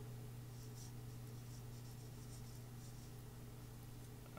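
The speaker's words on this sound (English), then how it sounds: "Just mark, try not to draw over too much of the blade, just mark the cutting edge" A layout marker is drawn along the cutting edge of a ceramic blade before sharpening, faint scratchy strokes heard close over a steady low background hum.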